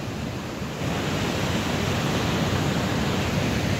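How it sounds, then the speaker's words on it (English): A waterfall of fast-moving water roars as a dense, steady rush that fills the whole clip, loud and continuous with no talk, in a snowy Canadian outdoor setting in April. "We got the waterfall going back there."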